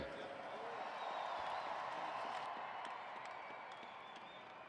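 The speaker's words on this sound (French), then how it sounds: "On s'applaudit très fort, il vient de briser la glace!" Crowd applause in an arena during a hockey team's fastest skater skills competition, a steady broad wash of clapping and cheering at moderate distance, with faint talk mixed in.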